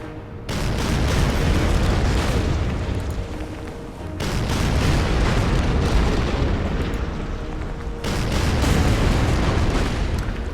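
Heavy naval bombardment hitting coastal gun positions in the strategy game Order of Battle, a dense continuous rumble of explosions that swells loud and near, with two brief dips before it surges again.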